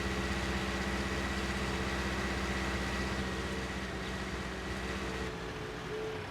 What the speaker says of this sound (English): let's go ahead and put this tractor away here somewhere